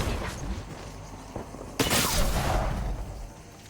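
Gunfire in the video game Apex Legends, a burst of rapid shots flaring up midway over a low game background, fairly loud and brief.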